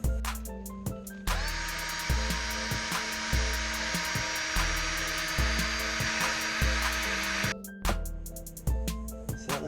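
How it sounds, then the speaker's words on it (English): A drill spinning a wire wheel scrubs rust off a car engine during a 3rd-generation Honda Prelude repaint, a loud steady whine with repeated bursts of gritty scraping as the wheel is pressed and lifted. "I'm going to go ahead and chase a lot of this rust, even like right here, with a drill and wire wheel."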